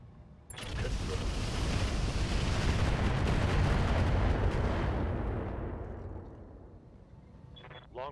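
Archer mech firing on a Hetzer tank in the RogueTech battle game, a long loud roaring barrage of rumbling missile or cannon fire swelling for several seconds before fading away.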